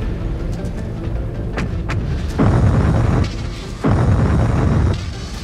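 Explosions in the MechWarrior 5 Clans video game, two heavy booming blasts a second or so apart following some lighter pops and mechanical noise, loud and close.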